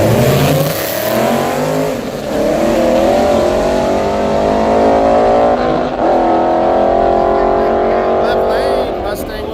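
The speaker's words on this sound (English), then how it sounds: "I think this is a 4-cylinder turbo" At a drag strip, a Mustang and a small 4-cylinder turbo car launch side by side, engines roaring loudly and climbing in pitch through the gears as they pull away, with continuous strong engine noise throughout.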